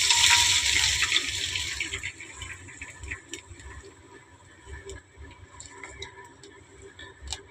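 Milk being poured into a pan of ghee, a broad splashing pour at the start that quickly settles into soft, close-up ticking and crackling as it heats, with no talking.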